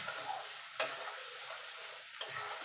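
Ginger, garlic and green chili paste sautéing in a pan for mutton curry, a soft steady sizzle with two sharp spatula knocks spaced apart, close but quiet, with no talking.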